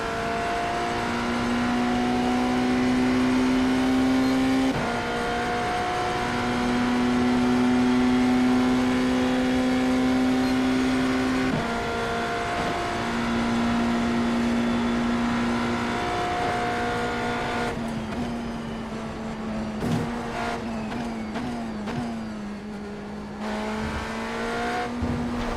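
A race car screams around the Le Mans circuit in a racing game, its engine holding long high-pitched tones, dropping briefly at gear shifts and braking, then fading to rougher, choppier revs toward the end.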